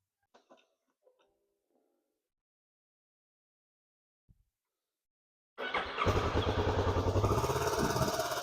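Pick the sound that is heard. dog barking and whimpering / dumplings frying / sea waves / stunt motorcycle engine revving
stunt motorcycle engine revving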